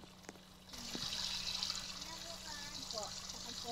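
Shower water in the video game Brookhaven starts running with a sudden steady hiss of spray, continuing under faint voices and a low hum.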